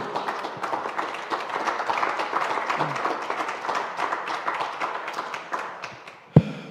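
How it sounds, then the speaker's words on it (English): Audience applause at a DTM motor racing press conference: a moderate, steady patter of many hands clapping that runs for several seconds, then thins out and ends with one sharp knock. "I think it's worth a big round of applause from the audience here at first."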